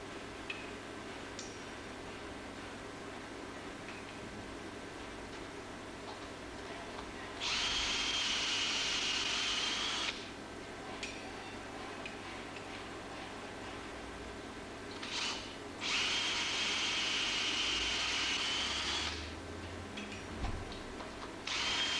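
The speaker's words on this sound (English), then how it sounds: "only this time we're going to use the 1/4 inch bush and drill." A power drill runs with a 1/4 inch bush and drill on a woodworking piece, in two sustained bursts of steady whirring, each a few seconds long, separated by quieter shop background.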